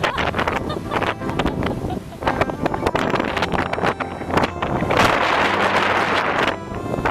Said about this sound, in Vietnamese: Nhưng mà nó vẫn gió nha.